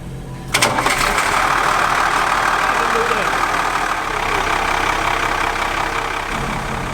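A bus engine cranks briefly, then catches and settles into a loud, steady rumbling idle that runs on without a break.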